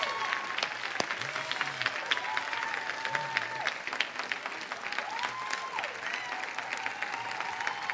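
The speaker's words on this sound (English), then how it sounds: "Finish clapping next week." A church congregation applauds and cheers while celebrating a new minister being licensed, sustained clapping from many hands with scattered whoops and voices calling out over it.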